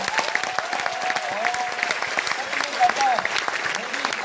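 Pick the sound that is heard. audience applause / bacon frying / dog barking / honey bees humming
audience applause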